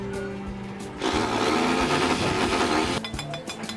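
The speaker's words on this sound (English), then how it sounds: "one worker is drilling, the sound echoing across the site" A power drill on a building construction site whirs loudly for about two seconds, starting and stopping abruptly against a background of music.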